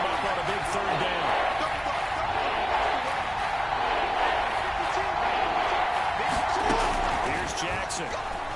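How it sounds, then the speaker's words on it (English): Dense, steady crowd roar fills a football stadium during a Browns v Ravens game ahead of a big third down, loud and sustained throughout, with an announcer's voice running over it. "The crowd getting into it as we come up on a big 3rd down."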